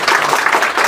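An audience at a motivational talk on Krishna's character claps together, a short, loud, dense burst of many hands.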